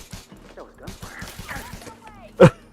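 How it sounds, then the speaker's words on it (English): Voices murmur and chatter, then one loud, sharp gunshot bang from Elite Dangerous bursts out near the end, standing well above the talk. "Oh, that was gunfire."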